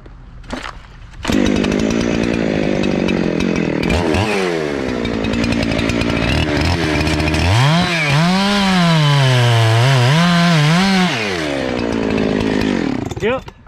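A chainsaw cuts into a dead hickory tree on a Michigan hillside, the engine revving up and bogging into the wood with a loud, steady roar for most of the clip; a voice speaks briefly near the start.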